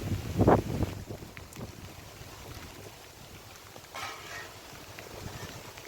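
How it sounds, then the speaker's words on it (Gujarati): Wind gusts past the microphone outdoors at a farm plot during light rain, heard as a steady rushing blow with a stronger buffet near the start and a milder surge later, and no voices. "જુઓ તમે આ રીતના પવન પણ ભેગો છે."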